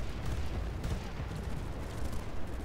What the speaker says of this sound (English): All the damn explosions, it shakes you up a little bit on the inside.